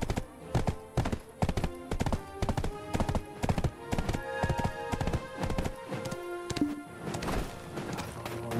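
Horse hooves clip-clopping in the video game Black Desert, in a steady, brisk rhythm, close and clear, with a brief clatter partway through and no talking.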